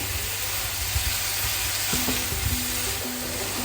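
A mixture is stirred with a spoon after a teaspoon of honey or maple syrup is added. A steady hiss carries soft scraping strokes, with a few light clinks and tonal scrapes in the second half.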